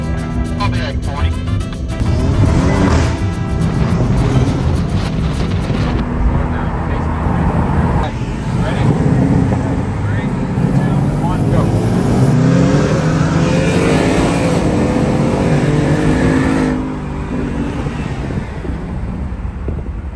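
A tuned Hyundai Elantra N and a Ford Mustang GT accelerate hard in a roll race, loud engine roar rising and shifting over about twenty seconds, with voices talking over the run.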